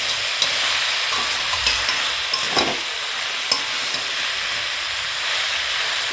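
Jujube fruit frying with salt in a pan, giving a continuous close hiss of sizzling with a few faint clicks and scrapes of stirring, no voices.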